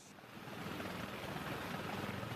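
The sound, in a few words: attack helicopter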